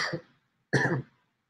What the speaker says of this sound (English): I'm gonna take a short break because I got a cough.